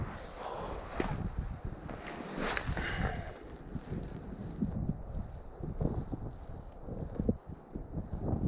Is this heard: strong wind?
yes